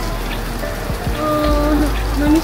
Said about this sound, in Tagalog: ang lakas sa ulan